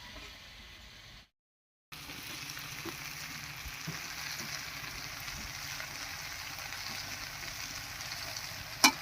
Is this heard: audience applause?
no